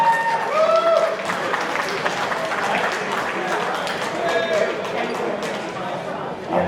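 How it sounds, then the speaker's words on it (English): Audience applause and crowd noise welcome a panel of Star Wars guests at a fan convention Q&A in Stoke-on-Trent, a steady wash of clapping and murmuring that fills the room throughout without letting up. "Give them a round of applause everybody."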